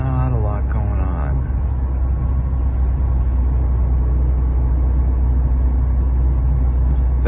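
A 2008 Pontiac six-cylinder car drives along with a constant low engine and road rumble heard from inside the cabin. A voice speaks briefly at the start.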